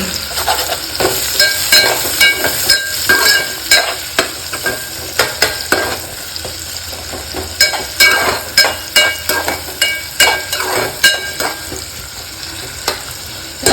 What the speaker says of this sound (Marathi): कांदा आपण लाल होईपर्यंत परतवून घेऊया